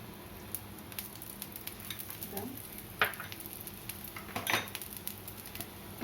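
Oil sizzling on a hot pan under a crispy onion dosa, a steady close frying hiss broken by a few clinks of utensils against the pan.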